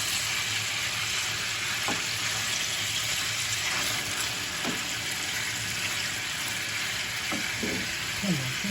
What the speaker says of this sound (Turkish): etlerin birer tarafı mühürlendi. Şimdi diğer taraflarını çevireceğim.